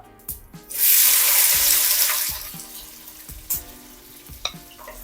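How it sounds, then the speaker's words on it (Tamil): Onions drop into hot oil in a clay pot after mustard seeds and fenugreek, setting off a loud sizzling burst that settles into softer frying, with a few clanks and knocks of stirring. "வெங்காயத்தை போட்டு நல்லா வதக்கிக்கணும்."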